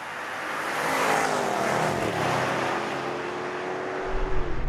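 A supercharged V8 Range Rover Sport or a Porsche Cayenne Turbo pulls hard down the straight at the Brands Hatch circuit, its engine note rising in a loud, steady drone throughout.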